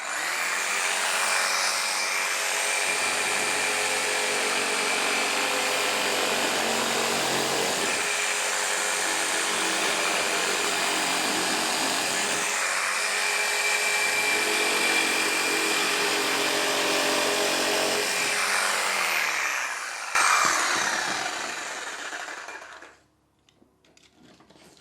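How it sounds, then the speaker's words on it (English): Jigsaw cutting through a drywall panel, a loud, continuous buzzing rasp with rising and falling strain as the blade works, running alone before stopping abruptly near the end. "if you have a jigsaw, it makes it a lot easier"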